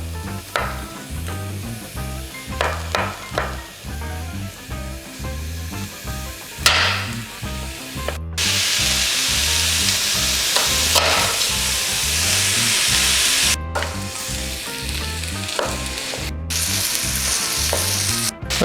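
Vegetables sauté in melted butter in a pot, a steady close sizzle broken by rhythmic scraping stirs and louder hissing bursts as they cook, with no talking.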